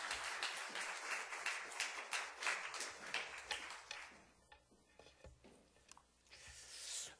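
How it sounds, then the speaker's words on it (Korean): A church congregation at a Sunday service claps in welcome for a pastor stepping up, producing dense, lively applause that thins into scattered claps toward the end. "우리 목사님 나오실 때 우리 힘있게 한번 환영하는 마음으로 박수"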